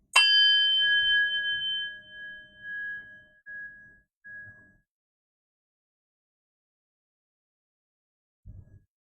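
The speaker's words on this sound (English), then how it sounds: "Right in a moment, I will ring the bell," A meditation bell is struck once, ringing out with a bright, clear tone that slowly decays over several seconds, followed by near silence and a faint low thump at the end.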